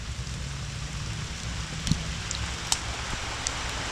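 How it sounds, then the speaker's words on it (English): Heavy rain pours down in a thick, constant wash of noise over a garden, broken by a couple of louder drops or splashes close by. "And the rain's coming down even harder,"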